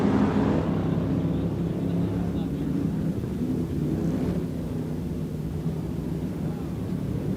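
A pack of stock car and hobby stock engines at Off Road Speedway roar together at the race start, a dense, steady, distant rumble that fades slightly after the first second, mixed with wind buffeting the microphone.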